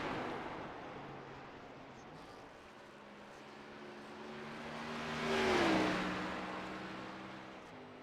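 The 14 race car on a hot lap, its engine note rising as it approaches, peaking in a loud pass with a falling pitch, then fading into a distant drone over a broad background hiss.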